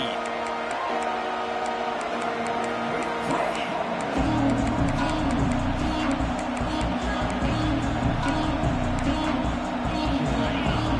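Stadium crowd noise at a college football video game rises into a dense, continuous roar that swells midway and stays loud throughout, with commentary spoken over it.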